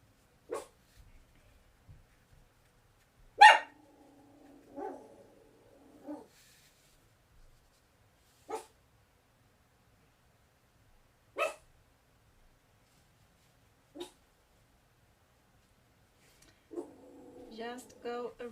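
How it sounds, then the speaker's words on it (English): A pet dog named Silas barks in several sharp, separate bursts spread across the stretch, some single and some in short clusters, with a person talking in between and briefly over the barking. "I'm sorry about my dog."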